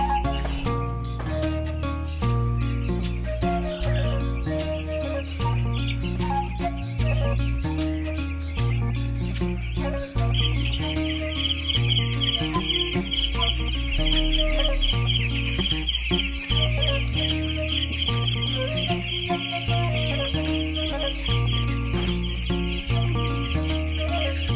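Broiler chickens on a Thrissur poultry farm raising more than 6000 birds cluck continuously as a dense flock, with steady layered calls throughout.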